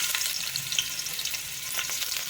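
Steady crackling sizzle of garlic frying in hot oil, close and continuous, with no voices.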